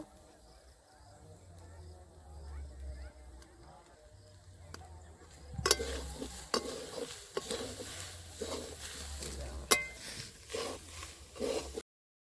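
Spoon stirring a coconut and rice flour mixture in a pan for narkel pithe, a series of soft scraping, patting strokes that grow busier after a quiet start, close by with no talk.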